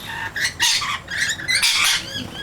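Several loud, harsh calls of noisy miner birds overlap in quick bursts, a noisy chattering chorus close by with no talking.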